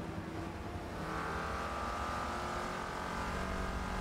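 Mazda RX-8 race car engine in a racing video game at Suzuka, a steady sustained drone rising slightly in pitch, heard continuously throughout.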